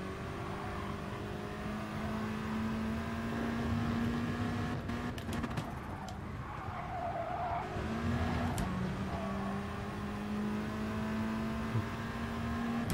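A race car in Gran Turismo 7 holds a steady engine drone with tyre squeal and skidding as it brakes for a corner, a sustained loud mechanical tone with no voices.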